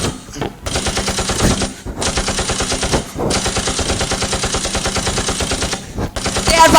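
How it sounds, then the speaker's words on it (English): Rapid machine-gun bursts ring out loud and dense as a sound effect in a school annual-function play, running in long sustained volleys broken by brief pauses, with no talk over them. "So they are firing from that side."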